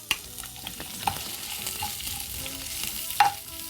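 Onion sizzling and being stirred in hot oil in a pan while making kurma, a soft steady fry with occasional scraping clinks of a spoon, no voices.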